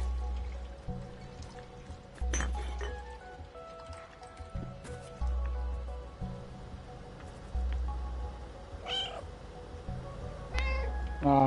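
An orange stray cat in a game meows repeatedly at roughly two-second intervals, clear, near and fairly loud, over a low droning background with occasional drips and clicks.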